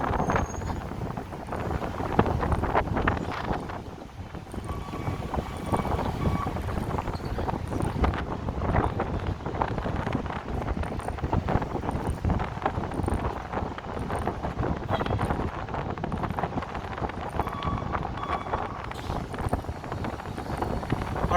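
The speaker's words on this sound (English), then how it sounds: "Oh, it's windy." Strong wind gusting steadily against the microphone while walking through downtown Chicago streets, a continuous loud rush with occasional buffeting and a voice speaking intermittently.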